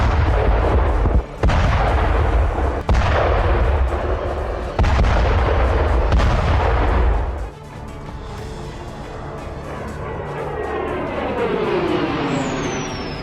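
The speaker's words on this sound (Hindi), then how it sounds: "दावा किया गया है कि रूस के तोपखाने नोवोसिलोस्का रीजन में यूक्रेन ठिकानों को तबाह कर रहे हैं।" Russian artillery fires on Ukrainian positions in the Novoselivske region of Luhansk: a series of loud, heavy booms at irregular intervals, then a lower rolling rumble as the blasts fade.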